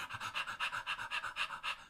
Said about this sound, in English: we tend to pant very shallow and very fast, very high up in our chest, in and out very quick, almost like this